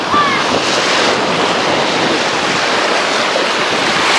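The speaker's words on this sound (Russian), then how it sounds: "А у моря ветерок." Sea waves and wind on the Black Sea shore make a steady, loud roar of surf mixed with gusting wind buffeting the microphone, with no pause.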